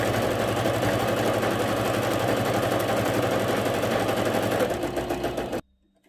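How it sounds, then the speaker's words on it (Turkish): Sewing machine running steadily, topstitching along a cross-stitch prayer rug, a fast even mechanical whir that stops abruptly near the end. "Şöyle sıfırdan bir baskı dikişi uyguluyorum."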